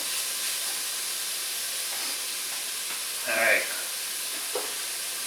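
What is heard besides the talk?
onion and stock simmering in a pot for ropa vieja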